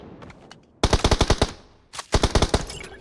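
Automatic gunfire in the mobile battle royale game PUBG Mobile comes as two loud, close bursts of rapid shots, the first after a quiet stretch of faint background sound and the second following a short pause.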